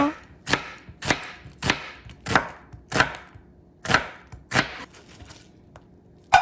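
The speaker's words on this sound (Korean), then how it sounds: "양파 반 개를 채 썰어주고요" Steady knife chops on a cutting board, about ten sharp evenly spaced strikes julienning half an onion, close and clear with no talking.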